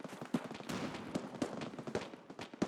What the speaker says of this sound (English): Oh, somebody threw a frag. I have no idea where that's landing.